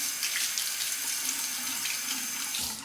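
A safety razor is rinsed under a running tap, a steady close rush of water splashing into a sink that continues throughout with slight shifts as the blade moves under the stream, with no talking.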